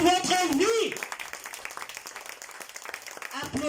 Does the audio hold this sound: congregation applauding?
yes